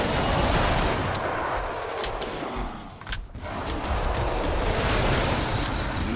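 .50 cal machine gun firing in a video game: dense rapid bursts of loud sharp shots with a rumbling wash underneath, briefly easing in the middle before resuming, with no talking.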